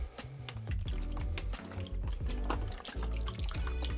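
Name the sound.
stop bath liquid poured into a developing tray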